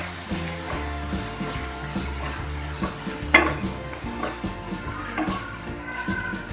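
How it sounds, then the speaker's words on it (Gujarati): Garlic and asafoetida sizzle in hot oil for raw mango pickle, a continuous frying hiss with a spoon stirring and knocking against the pan now and then. "લસણ નાખીશું, મિક્સ કરી લઈએ।"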